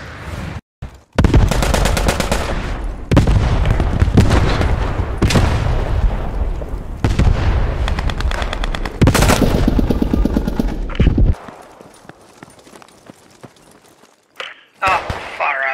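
Rapid automatic M1 Carbine fire from the hip in the World War II shooter Post Scriptum, loud close bursts of cracking shots repeated across the stretch, with a player talking over the gunfire before it tapers off.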